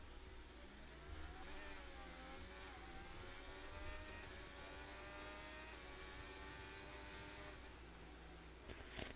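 A race car in an XLR sim racing game accelerates hard at the start of a run at Belgium's Spa circuit, its engine revving loudly and continuously through rising gears, near and steady throughout.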